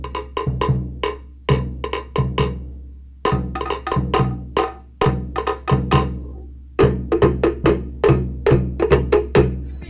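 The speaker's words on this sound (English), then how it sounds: "Now when we put the pa'u and the pate together" Cook Islands pa'u and pate drums play together in a fast, driving rhythm of sharp wooden log-drum strikes over booming deep drum hits, loud and close with short pauses between phrases.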